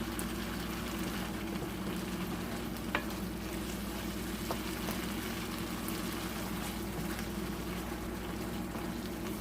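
An Ethiopian fish stew cooks in a pot, giving a loud, continuous sizzling bubble with a few faint clicks scattered through it and no voices.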